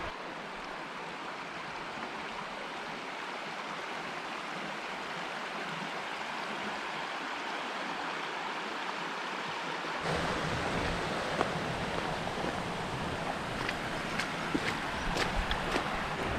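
A river runs steady and full upstream near Ennerdale Water, its broad rushing hiss constant throughout and growing a little louder and rougher toward the end, with no voices.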